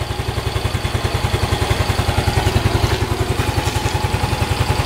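Yamaha Mio M3 scooter engine idling just after starting: a steady, even low chug with rapid regular firing pulses and light mechanical clatter, close and moderately loud, with no talk.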